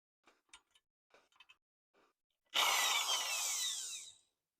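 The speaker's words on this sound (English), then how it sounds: "I'm going to use my hammer drill, and I've got a 4-inch auger that I can attach to it" A hammer drill fitted with a 4-inch auger bores into desert ground with a loud, sudden whirring grind lasting about two seconds, following a few soft, faint rustles and knocks.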